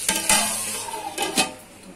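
Hyderabadi biryani yakhni being stirred in a pot, a few quick clinking scrapes of a spoon against metal over a low sizzle, close and brief, no voices.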